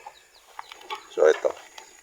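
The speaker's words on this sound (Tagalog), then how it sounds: "So ito na yung mga pabo natin mga kabrad" Turkeys in a newly built backyard pen give a few brief, close clucking and gobbling calls, loudest in one short burst near the middle, over low background noise.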